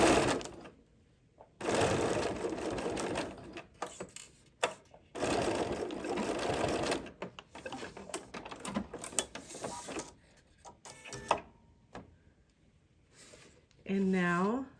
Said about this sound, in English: a couple stitches backwards, a couple stitches forwards, removing my pin, removing my pins as I go along